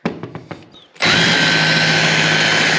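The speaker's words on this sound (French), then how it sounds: "On perce sans savoir où on va." A power drill bores into plasterboard, a high steady whine that starts abruptly after a few light knocks and handling taps and then runs continuously and close.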